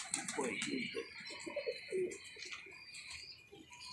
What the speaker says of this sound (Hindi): लो जी दोस्तों बड़े बड़े क्वालिटियों में लाजवाब कबूतर